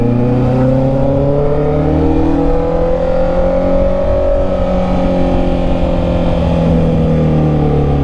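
A Honda CB650R motorcycle engine running while being ridden through traffic, a loud, steady harmonic drone whose pitch rises and falls gently as the rider works the throttle, close up, with no speech.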